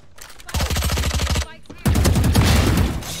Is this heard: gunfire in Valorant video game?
yes